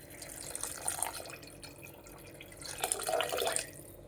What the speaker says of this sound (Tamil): எனக்கு வேணுங்கிற அளவுக்கு தண்ணி மட்டும் இதில் ஆட் பண்ணிக்கிறேன்